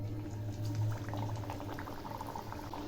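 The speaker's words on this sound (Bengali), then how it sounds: "তেল গরম হয়েছে, এবার আমি ছেড়ে দিচ্ছি।" Kochuri, stuffed with green peas, fry in hot oil in a wok, giving a soft, steady bubbling sizzle under a low background hum.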